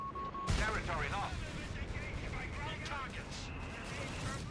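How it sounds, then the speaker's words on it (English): Long-range anti-tank guns firing in a World War II-style strategy game battle, a sharp booming shot followed by a rumbling, echoing tail, with a voice talking over the mix. "it's these long-range anti-tank guns that are making the difference right now"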